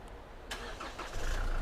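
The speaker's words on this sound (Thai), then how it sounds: "ในตัวรุ่นใหม่นะคะ 2016 ขึ้นมาเนี่ยเขาจะสามารถสตาร์ทรถได้จากที่กุญแจนะคะ" A Chevrolet Trailblazer 2.5 LT engine remote-started from the key fob: a brief click, then the engine cranks and catches, settling into a low steady rumble, heard close outside the locked car.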